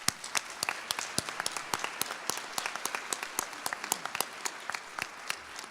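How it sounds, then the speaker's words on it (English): Scattered applause from a small crowd at a grants presentation ceremony, claps sharp and irregular, steady for several seconds with no talking. "Let's give a round of applause"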